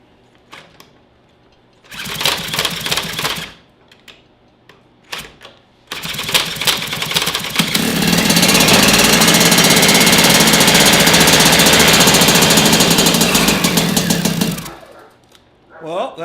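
Moped engine with a newly installed HPI CDI, rear wheel off the ground, sputtering in two short attempts before catching and running in a loud, rapid two-stroke rattle that rises in revs, then cuts off.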